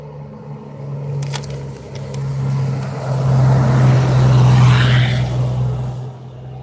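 A car passing close by on a wide village street, its engine hum and tyre rush swelling to a peak and then fading away, with no talk.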